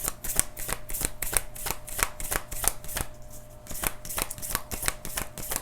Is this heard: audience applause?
no